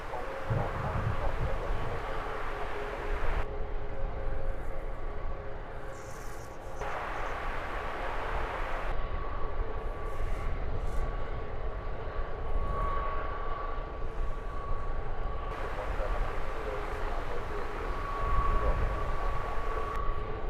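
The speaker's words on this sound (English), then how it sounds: "Touching down there, Wizz Air flight 3501, inbound from Timisoara." A Wizz Air plane touches down at London Luton Airport, heard as a sustained, moderately distant roar of jet engines and rushing air that holds steady throughout, with no one talking.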